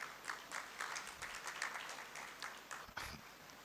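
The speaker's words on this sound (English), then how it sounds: "Please, a round of applause for him as he comes to the table." Conference audience at an international Vision Zero Africa event applauding, a faint, distant and steady wash of many hands clapping with no single claps standing out.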